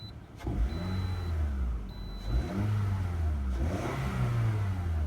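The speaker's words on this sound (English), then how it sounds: "let's go take a look at the engine. First, let's start up the car again." A 2011 Toyota RAV4 Limited engine runs close by with a steady idle, broken by three rising revs that swell and fall back, with no talking.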